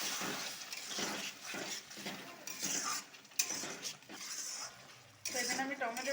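A ground paste of tomato, ginger, garlic and green chili goes into a hot pan for Bengali crab kosa, bringing irregular spoon scrapes and utensil clatter over a soft sizzle that swells near the end.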